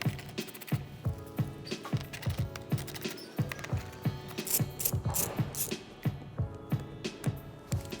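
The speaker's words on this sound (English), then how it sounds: "We're going to remove 5 8mm screws holding the bottom of the bumper." A hand ratchet working under a BMW Z4 to remove the 8mm screws holding the bottom of the bumper, giving a quiet, repeated clicking in uneven bursts with faint mechanical knocks.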